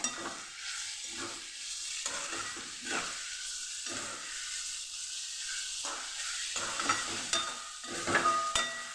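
A spoon stirs sweet-sour papaya relish with sugar and lemon juice in a hot pan, repeated scraping strokes over a soft sizzle, fairly close and with no talking.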